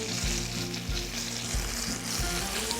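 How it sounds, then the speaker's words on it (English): Steady sizzling of butter frying in a hot pan, a continuous crackle with a few soft scraping stirs, close and fairly loud, no talking. "Not too much because I am frying"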